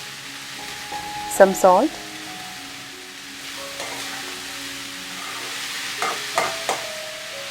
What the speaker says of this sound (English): Saute shallots and green chilies in hot coconut oil. Then mix in the chopped bitter gourd